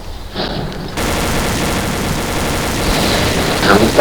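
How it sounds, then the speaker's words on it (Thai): Rapid bursts of loud gunfire from the shooter video game Xshot, aimed at head shots: a dense, continuous volley after a brief quieter opening, intensifying toward the end. "เดี๋ยวกูจะลองยิงหัวแม่งเลย"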